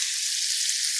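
Beef sizzles steadily in a hot cast iron pan, a dense, even hiss of frying fat with no voices.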